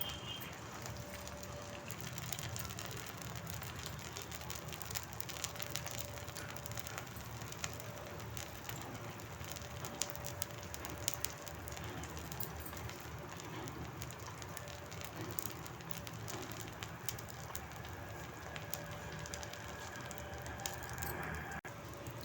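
A vegetable uttappa sizzles steadily on a hot griddle, a soft continuous crackle with faint popping throughout, heard close and alone.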